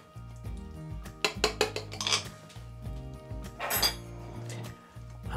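Metal utensils clink and scrape against a baking dish while a portion of baked meat cannelloni is cut through and lifted out, the sharp clatters coming in close, irregular bursts over a low background hum.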